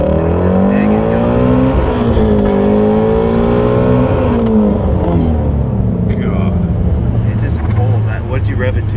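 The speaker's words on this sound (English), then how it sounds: "this is my first gear launch" A Ford Mustang GT350 launching hard in first gear, its engine note climbing steadily in a loud, close, continuous roar with a slight dip before rising again near the end, while people talk over it.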